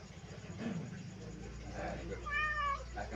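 A house cat gives a short, clear meow late in the moment, fairly faint, while someone talks in the background.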